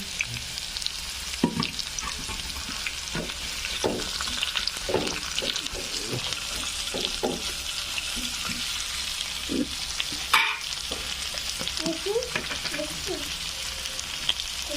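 Chopped onion and green chilli fry in hot oil for banana-stem masala, giving a steady close sizzle broken by scattered scrapes and stirring knocks from a spatula, with one louder clatter partway through.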